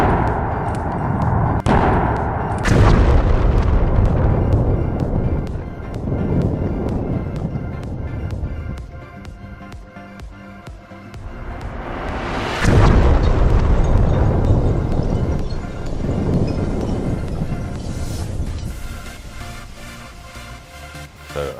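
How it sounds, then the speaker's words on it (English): A 650-pound binary explosive charge detonates far off, heard from about 800 yards away as two massive booms that each roll into a long, deep, echoing rumble. "invited me out to do one of the largest binary explosive shots from 800 yards away"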